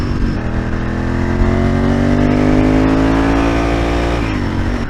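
A 29-year-old Ducati 916 motorcycle engine drones loudly and steadily while being ridden, its pitch rising gradually over several seconds and then dropping slightly near the end, with no talking.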